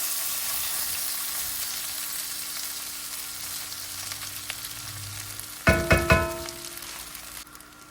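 Steady sizzling of frying in a pan, with a brief burst of louder crackling and scraping near the end as cooked rice is tipped into the tempering for lemon rice and stirred.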